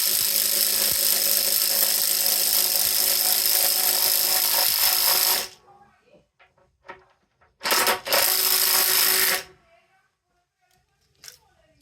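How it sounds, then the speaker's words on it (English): A 36V cordless driver on a standard battery drives a half-inch by 10-inch lag screw into a 6x6 with a loud, close whine. It stops with a few clicks, then comes back in a short second burst before going quiet. "Here's a standard battery, fully charged, driving a 1/2 inch by 10 lag into a 6x6."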